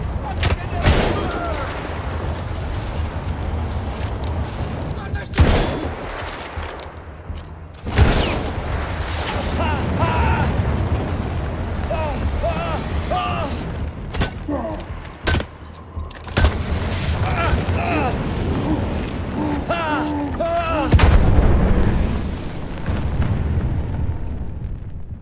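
Gunfire and heavy explosions boom through a busy Battlefield 1 battle scene at Gallipoli, several big blasts punctuating continuous shooting while voices talk over the noise.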